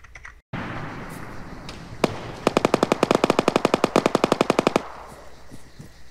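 Rapid automatic gunfire in the video game Arma 3 bursts out in a fast, loud, evenly spaced string of shots after a single earlier crack, over a constant rumbling game background.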